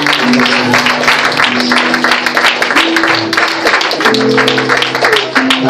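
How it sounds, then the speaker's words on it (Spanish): Church congregation applauding during an evangelistic service, steady dense clapping from many people sustained throughout, with voices and sustained tones underneath. "Dale un aplauso al Señor."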